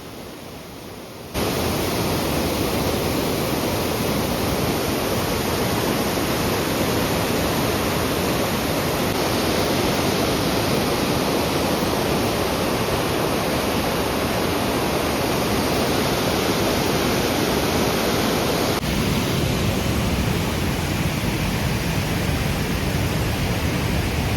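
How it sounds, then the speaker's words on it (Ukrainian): The Probiy waterfall in Yaremche, Ukraine, roars as a constant, dense wash of falling water, loud and unbroken from start to finish after a brief quieter opening. "Водоспад е, пробій, як завжди, прекрасний."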